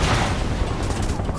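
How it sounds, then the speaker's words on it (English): A dense burst of gunfire fills a hectic firefight in Final Fantasy 7 Remake Intergrade on PS5, loud and continuous, with shouted orders mixed in. "Open fire! Shoot to kill!"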